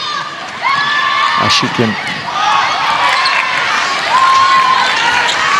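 A lively cheer squad shouts and cheers at a netball semi-final between Malaysia and Brunei, a loud steady crowd wash running throughout with rising whoops and a commentator talking over it.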